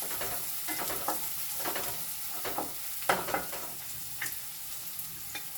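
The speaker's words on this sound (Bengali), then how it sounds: "প্রথমে দিয়ে দিলাম পেঁয়াজ, পেঁয়াজটাকে একটু নাড়াঘাটা করে নিলাম" Onion stirred and fried in a pan with a steady sizzle, crossed by repeated scrapes and clicks of the spatula at an irregular rhythm, close and moderately loud, with no talking.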